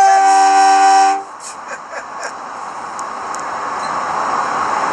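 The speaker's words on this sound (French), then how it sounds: "je vais donner un petit coup de klaxon à deux" A loud two-tone horn from a Belgian HLE 21 locomotive hauling an IC-H train sounds for about a second before a curve, then cuts off, leaving a steady rumble of the moving train.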